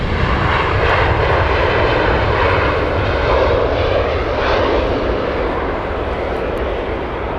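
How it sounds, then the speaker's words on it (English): Finnair Airbus A320 on final approach to Heathrow, a loud, steady roar of jet engines that holds nearly constant throughout without any voices. "Finnair on final as well."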